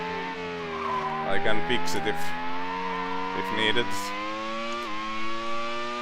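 A Formula One race car engine in the racing game Grand Prix 3 at the San Marino GP whines loudly with steadily climbing pitch through the gears, broken by short bursts of tire squeal, while someone talks over it.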